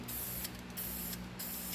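Bursts of spray painting with yellow paint on an old Singer machine, three long hissing passes with short gaps between them, close and steady over a low background hum.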